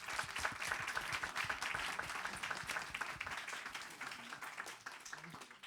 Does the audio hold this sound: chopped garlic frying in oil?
no